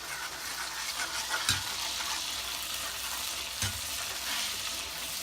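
Butter heats in a hot black iron pan for a reverse-seared steak. It gives a dense, even sizzle and crackle that holds steady throughout, broken by two brief knocks of metal, with no talking.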